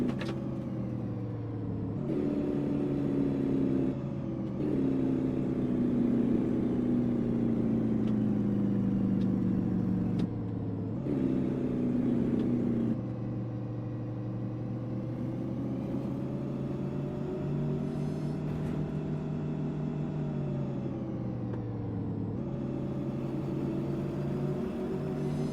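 An armoured battle truck in American Truck Simulator drives with a steady, loud engine drone, its pitch gliding and shifting through gear changes over a constant low rumble, with no talk.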